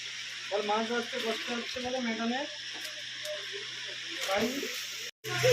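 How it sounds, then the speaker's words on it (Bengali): Fish frying in hot oil in a home kitchen, a steady broad sizzle running throughout at close range, with people talking over it for most of the stretch. "মাছ ভাজছি দেখো বন্ধুরা"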